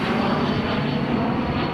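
Steady, loud drone of an airliner's engines in flight during a flight home to Utah, a continuous broadband roar with a low hum underneath and no speech.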